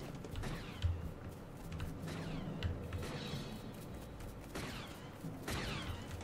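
Sharp bursts of blaster fire in Fortnite LEGO crack repeatedly over a dense, noisy mechanical background, several shots spaced through the scene.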